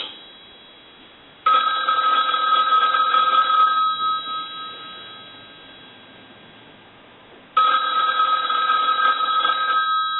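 A Bell rotary payphone's mechanical bell rings loudly in two bursts of rapid metallic jangling, each about two to three seconds long, separated by a quiet gap while the ring fades out.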